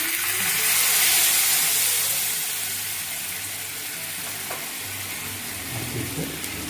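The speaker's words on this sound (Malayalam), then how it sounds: "അപ്പോൾ ഉള്ളി നന്നായിട്ടൊന്ന് മുരിഞ്ഞിട്ടുണ്ട്." Onions sizzle and fry steadily in a pan for a curry of pumpkin, a hissing crackle close by with occasional stirring scrapes, no talk over it.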